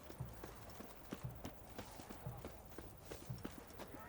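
Horse hooves clip-clop at a steady walking pace on a leisurely ride in The Witcher III: Blood and Wine. The rhythmic, moderately close footfalls carry on under a soft ambient bed with no talking.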